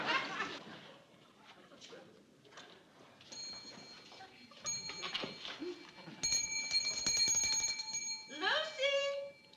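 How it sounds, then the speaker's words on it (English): A bell rung by a woman calling for service in a household sitcom scene, heard as bright ringing tones in bursts among talk and other room sounds, loudest near the end. "every time she rings that bell"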